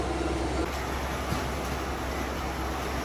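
Booklet printing machine with a saddle stitch unit running loudly, a steady broadband mechanical roar with a constant high whine, no talk.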